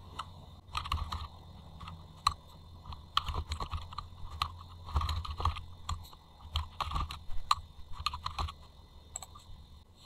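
A computer keyboard is typed on in an office while patient names are entered into a spreadsheet, with a close-up patter of irregular plastic key clicks coming in quick bursts and short pauses.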